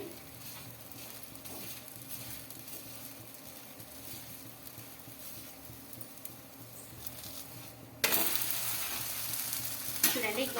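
An aloo paratha made with wheat flour fries in a little oil on a pan, giving a soft steady sizzle that turns sharply louder and brighter near the end as more oil hits the hot surface.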